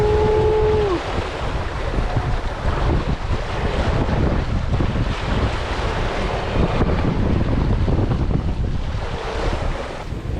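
Strong wind buffets a sailboat's microphone as the hull rides a heavy swell off Finistère near the Raz de Sein, with loud continuous rushing water and roaring gusts and no talking.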